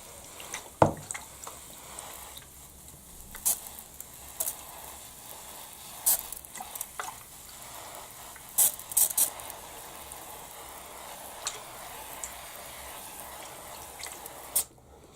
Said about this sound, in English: nice blast with the water